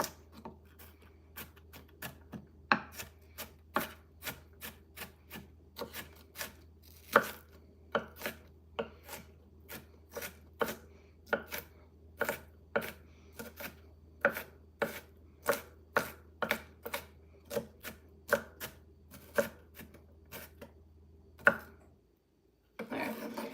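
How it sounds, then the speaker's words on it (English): Ground beef for tacos is broken up in a pan with steady, sharp chopping taps, roughly two per second, for about twenty seconds over a low hum. Nobody speaks. "so we're just going to go and just chop them up"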